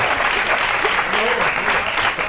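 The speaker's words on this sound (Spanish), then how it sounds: "Obligan a aplaudir a la pobre gente." A TV studio audience keeps up loud, even applause throughout, a thick steady wash of many hands clapping together.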